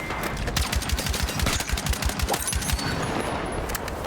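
Rapid automatic gunfire in a Battlefield Redsec battle royale match, a steady stream of sharp shots with distant bursts layered over a constant rumbling battlefield din, no voices.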